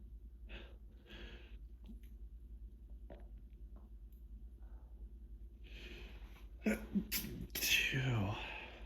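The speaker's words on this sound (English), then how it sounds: "I'm gonna sneeze." A sneeze builds through several sharp breathy inhales and snorts, then bursts out loudly near the end, close to the listener.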